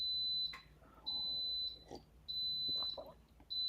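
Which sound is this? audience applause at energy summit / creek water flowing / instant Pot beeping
instant Pot beeping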